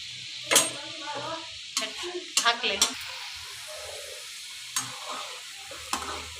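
Coconut strips deep-frying in hot oil, a low steady sizzle broken by several sharp clinks and scrapes of a utensil against the pan, close by with no talking.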